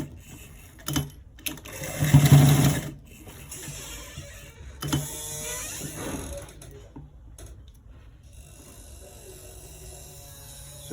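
A sewing machine stitches an inner front pocket in fabric, its motor buzzing in short whirring bursts, loudest in one sustained run, separated by quiet pauses and faint handling noises.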